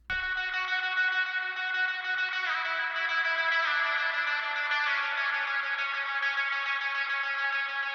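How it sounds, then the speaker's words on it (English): Clean electric guitar chords ring out with heavy echo and shimmering reverb, sustained notes layering into a spacious ambient wash. "I'm going to add some more of those ambient clean tones"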